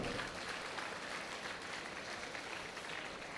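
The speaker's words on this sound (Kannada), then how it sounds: "ಸರಿನ ಮಾತುಗಳಿಗೋಸ್ಕರ ಒಂದು ದೊಡ್ಡ ಚಪ್ಪಾಳೆ ಕೊಡಿ ಅಂತ ವಿನಂತಿ ಮಾಡ್ಕೋತೆ" An audience at an orientation speech event gives faint, distant applause, a steady wash of clapping that holds evenly for a few seconds.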